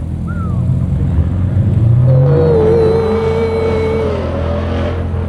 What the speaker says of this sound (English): I hate that little noise that the McLaren does.